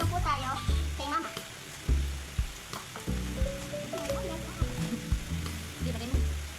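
Argentina corned beef sizzling and frying in a pan beside potatoes in a home kitchen, a steady hiss with stirring clatter, while an adult and someone talk over it.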